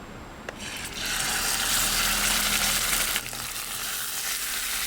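Beef tenderloin hits a well-oiled pan at a winter campsite and sizzles loudly, a dense steady hiss that begins about a second in and carries on close up without any talking.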